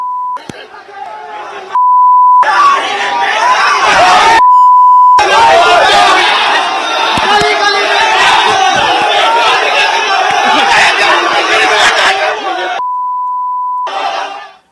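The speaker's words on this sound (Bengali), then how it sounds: "স্লোগান।" Junior doctors protesting at RG Kar Hospital, a loud crowd shouting slogans together in rhythmic bursts, broken by censor beeps between the chants.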